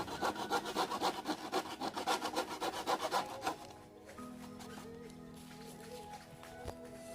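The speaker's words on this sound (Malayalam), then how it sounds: "നമ്മൾ ബ്ലേഡായിട്ട് തന്നെ കട്ട് ചെയ്ത് ഒഴിവാക്കാൻ പാടും." Aftermarket Bajaj Discover grab handle part for a Yamaha FZ V2 motorcycle cut with a blade: rapid rhythmic back-and-forth sawing strokes close up for a few seconds, then they stop, leaving a quieter workshop hum.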